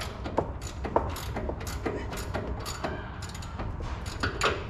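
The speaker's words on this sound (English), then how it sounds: "this is where ratcheting spanners come in handy because there's not much room in here" A ratcheting spanner clicks in a tight space while tightening upper control arm bolts on a Toyota 200 Series, with a steady run of close, light ratchet ticks and small metallic knocks.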